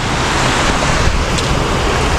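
Steady, loud wash of sea surf at a beach at low tide, a continuous broadband roar with wind buffeting the microphone and no voices.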